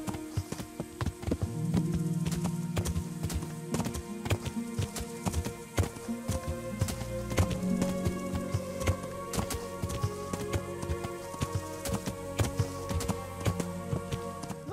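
Horse hooves clip-clop steadily at a riding pace in Kingdom Come: Deliverance, a continuous rhythmic patter heard alongside game music and ambience, fairly close and even in loudness.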